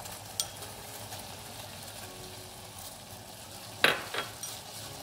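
Water with Kashmiri tea leaves bubbles and simmers steadily in a pot, a soft continuous boil, with a brief clink of metal near the end.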